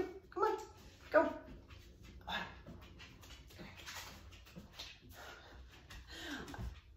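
A dog whimpers and yips, then gives a couple of sharp barks, with panting and soft whines in between, fairly close and moderately loud, while a person talks faintly in the background.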